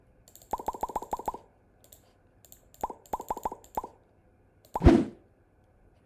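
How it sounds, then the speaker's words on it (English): Button clicks and page in/out interface sounds in a Unity game: quick bursts of crisp, evenly spaced clicks in two clusters, followed by a single louder swooshing pop, close and clean over near silence. "the click button sound is coming, then the second, the page in or page out is coming"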